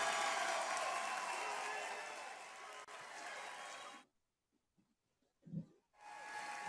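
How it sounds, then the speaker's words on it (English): A crowd applauding at a Green Party convention, a broad hissing roar of clapping that thins, then cuts out abruptly into near silence with a few faint knocks before surging back. "You can applaud now for Julian Assange."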